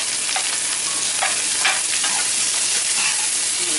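Chicken quesadilla pieces sizzle steadily in a hot skillet, a loud, even hiss with scattered scraping and clatter as they are turned over, close by with no talking.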